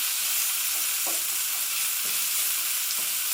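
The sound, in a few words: onions and garlic frying in a pan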